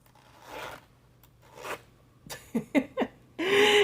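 Zipper on a cash wallet being pulled open, a few short quick zips in a row followed by a longer, louder rasping pull, close and clear with no talk.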